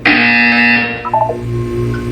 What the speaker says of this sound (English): You will hear a buzzer. When you hear the buzzer,